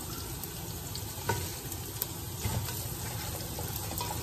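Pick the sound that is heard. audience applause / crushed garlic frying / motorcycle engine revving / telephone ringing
crushed garlic frying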